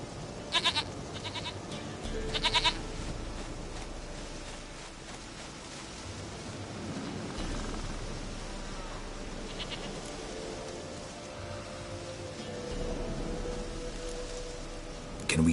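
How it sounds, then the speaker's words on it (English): Goat in the game The Witcher 3 letting out a few short bleats near the start, then a low steady ambient bed continues with faint stirrings. "Goat of mine, dearest, sweetest goat."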